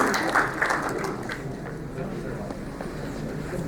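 An event audience gives a federal minister diffuse, moderately loud applause, mixed with crowd murmur and voices.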